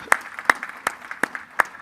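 Applause at a conference fireside chat comes through as five crisp, evenly spaced claps in a steady rhythm, close and fairly loud against a quiet room.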